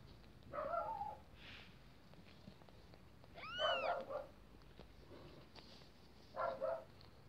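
Newborn kittens, about an hour old, squeaking and mewing beside their mother cat, three short, high, faint mews spread apart over a quiet room.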